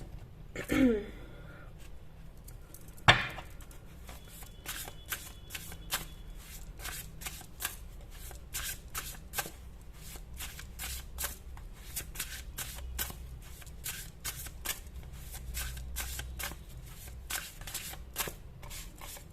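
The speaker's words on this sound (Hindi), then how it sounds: "बहुत इनमें प्रॉब्लम होती है कार्ड्स को शफल करने में" Tarot cards being shuffled by hand, a steady run of crisp riffling flicks and soft slaps that repeats for most of the stretch after a brief knock near the start, close up and fairly quiet with no talk.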